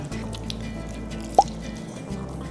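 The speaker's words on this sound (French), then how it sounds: "Bien mouillé mon flétan de jus de lime." Lime juice poured over raw halibut for ceviche, with faint wet trickling and a single distinct drip or splash partway through.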